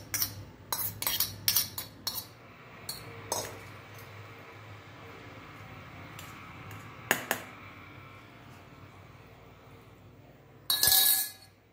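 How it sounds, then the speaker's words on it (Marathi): Knife cutting through steamed dhokla on a plate, a series of sharp metallic clinks and taps early on, then quieter scraping, a few isolated clinks, and a louder burst of clatter near the end. "आणि मग नंतर ढोकळा हा कापून घ्यायचा आहे."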